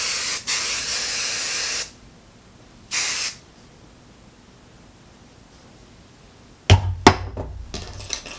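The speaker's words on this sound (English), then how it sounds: "I'm also going to add more hairspray on this side." Hairspray misting from an aerosol can onto hair in two steady hissing bursts, a long one and a shorter one, followed by a few clattering knocks near the end.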